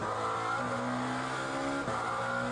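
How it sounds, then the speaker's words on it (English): Lamborghini Iron Lynx race car in Le Mans Ultimate, its engine droning steadily at high revs with a brief dip and shift in pitch partway, loud and continuous with no voices. "So this is the Lamborghini Iron Lynx"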